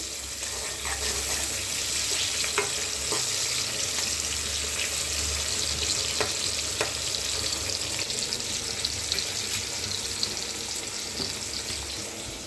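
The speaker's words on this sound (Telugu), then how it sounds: "ఆయిల్లో వేయాలండి. ఈ విధంగా కలపాలి." Oil frying in a pan with a steady, close hiss and crackle while the tempering is stirred, with occasional utensil scrapes and clicks over the sizzle.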